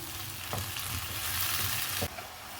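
Tomato paste goes into a hot pan with green chillies and fries loudly, a dense continuous sizzle with brief stirring scrapes before it drops abruptly near the end.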